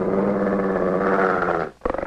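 A dog in an old monster film growls long and low in a menacing, snarling stretch, breaks off briefly, then snaps back with a sharp burst of close, aggressive growling.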